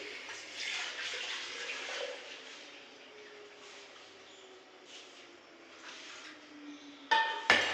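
Homemade lassi poured into a jug, a soft continuous liquid stream with faint clinks, ending in a couple of louder knocks.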